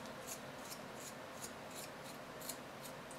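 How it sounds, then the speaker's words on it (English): A graphite pencil is turned in a small metal pencil sharpener, giving a faint, steady scraping with rhythmic grinding strokes roughly every third of a second. "I need to sharpen my pencil a little bit. I've got a little metal pencil sharpener."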